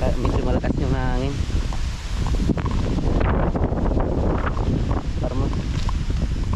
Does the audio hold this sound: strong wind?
yes